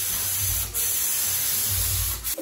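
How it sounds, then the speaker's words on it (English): A close, continuous hiss of a spray gun applying two-component epoxy primer to a car fender, broad and steady with brief breaks, with no voices. "I applied the first coat with the light spray"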